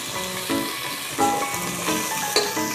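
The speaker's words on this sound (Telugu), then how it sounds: "ఇది బాగా వేగిపోయాకైతే నేను టమాటా ముక్కలు వేస్తాను." Tomato pieces frying in a pan for sweet corn pulao, a steady close sizzle with a few louder crackles and stirring scrapes, no talk.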